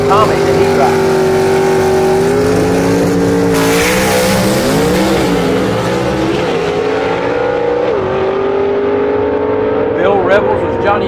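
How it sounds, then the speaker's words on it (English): A 1963 Mercury Comet gasser drag car launches hard off the line at a B/Gas drag race, its loud engine roaring and rising in pitch continuously, close and dominant, with a race commentator talking over it. "Rebels was Johnny on the spot with an incredible leave right there, and just leaving Greg Adams sitting at the line"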